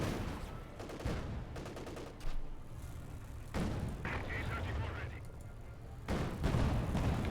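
Gunfire and explosions sound in the video game Company of Heroes 2 as repeated bursts and booms under a continuous busy battle din, with a commentator talking over them.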